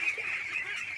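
Ducks on a village pond give a short nasal honking call, close and fairly clear over a quiet background, lasting about a second.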